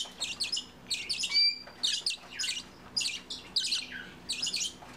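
Hand-fed Bourke's parakeets chirp and squawk in repeated bright bursts, close and lively, with short gaps between calls.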